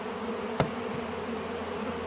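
Steady, dense buzzing of many bees fills the whole clip, with a brief sharp thump of something striking the ground partway through.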